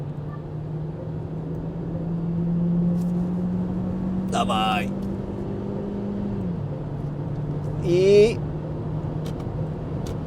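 From inside a Sportequipe 8GT seven-seat SUV running on LPG in sport mode, the engine hums steadily as it accelerates from just under 90 km/h to pass a truck, then the drone drops in pitch; short spoken exclamations break in.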